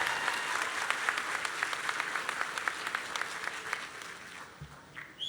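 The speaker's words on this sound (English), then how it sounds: "Everyone, please give a round of applause to the Middle College High School HCC Fraga, class of" Graduation audience applause for a high school class of 2025, a steady dense wash of many hands clapping at moderate distance, continuous for several seconds before thinning out near the end.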